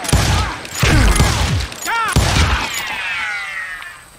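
Gunfire in the Western shooter Call of Juarez Gunslinger, several loud sharp shots in quick succession with ringing ricochet-like whines and echoing tails, close and dominant.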